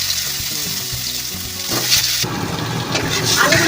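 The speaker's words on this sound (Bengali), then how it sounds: "তেলেই আলুগুলো ভেজে নেবো।" Potatoes frying in hot oil after eggs, a steady loud sizzle throughout with stirring and spatula scrapes, growing denser and brighter in the second half.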